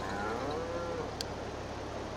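Cows lowing in a Farming Simulator 22 farm setting, a single drawn-out moo, moderately distant, over a steady ambient background with no talk.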